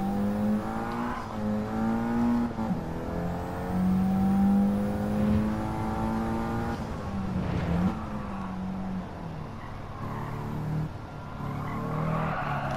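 Toyota GR86 '21 with a swapped engine drifting in Gran Turismo 7, engine droning and shifting pitch with tires squealing through long slides, loud and continuous.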